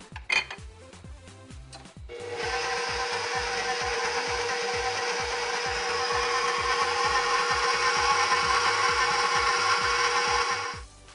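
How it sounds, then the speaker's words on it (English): An electric hand mixer beats an egg into cream cheese batter for mango cheesecake cupcakes. A few clinks come first, then a loud steady motor whir runs continuously with the beaters rattling against the bowl. "So now I'm going to gently put in this egg and beat some more"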